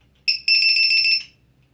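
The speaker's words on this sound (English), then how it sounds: "you'll hear a loud beep when I plug it in" A low-voltage battery checker for an E-Flite Convergence VTOL RC plane gives a loud, shrill electronic beep when plugged in: a short chirp, then a sustained pulsing tone lasting about a second before it stops.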